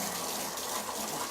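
Water running in a bathroom to rinse sand off tripod legs, a continuous close rushing gush without pause or voices.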